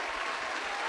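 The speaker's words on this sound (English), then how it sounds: "Let's get a round of applause for ourselves." Brief, steady round of applause on a podcast, dense clapping at moderate level for about a second with no voices over it.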